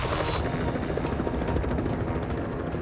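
Helicopter hovering nearby while lifting wreckage on a long line in the Alaskan bush, a loud steady rotor chop with engine whine, continuous throughout.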